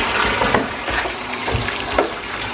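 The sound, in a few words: running water rinsing hair extensions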